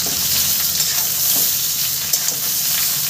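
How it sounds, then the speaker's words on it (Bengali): Mango pieces fry in hot oil for a pickle, a dense, steady sizzle close to the pan with occasional stirring scrapes. "তেলের মধ্যে আমি সমস্ত আম দিয়ে দিয়েছি।"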